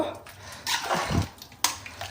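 A short splash of water poured into a pot of channa masala gravy, brief and close, with a faint voice and a light clink around it.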